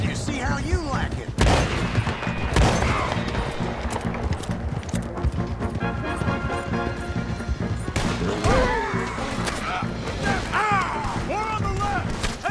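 Gunfire and chaotic impacts crackle through a battle in Red Dead Redemption 2, with loud, dense, irregular bursts of shots and crashes, horse hooves mixed in, and voices shouting throughout.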